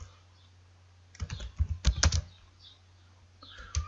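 Clicks of a computer keyboard as someone types in a word processor, a quick irregular burst of keystrokes after a quiet pause, then a couple more taps near the end, close and fairly clear.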